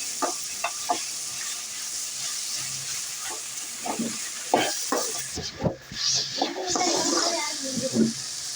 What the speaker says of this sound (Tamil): வெங்காயம் தக்காளி கேரட்டு உருளைக்கிழங்கு சேர்த்து நல்லா வதக்கிட்டு இருக்கோம்